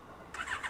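A Honda CB1100 EX motorcycle engine, starting at about a third of the way in and running close and fairly loud, with a rising mechanical roar and a slight whine.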